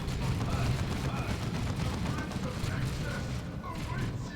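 Heavy bolter fire in the Warhammer strategy game Dawn of War 2: Retribution rattles as sustained rapid gunfire, with battle noise heard under a commentator's voice.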